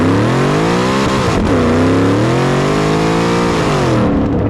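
A Coyote V8-swapped Ford F150 Lightning pickup accelerates hard with loud, continuous engine roar and rising revs, briefly easing off as the tires start to spin, then pulling again.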